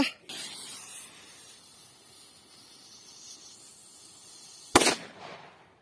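A fuse hisses steadily for several seconds, then a single loud, sharp bang from a Dum Bum F2 firecracker cracks nearby, followed by a brief fading rumble.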